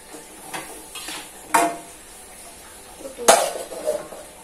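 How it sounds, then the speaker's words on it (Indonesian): Metal spatula scraping and clinking against a pan while young papaya is stirred in a sauté, a few sharp knocks spaced across a quiet kitchen background. "Jangan lupa diaduk ya."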